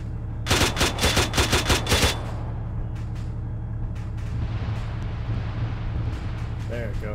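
In the Arma 3 video game, a helicopter fires a rapid burst of about ten loud gunshots, followed by fainter scattered reports and background engine drone.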